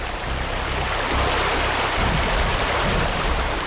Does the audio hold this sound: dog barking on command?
no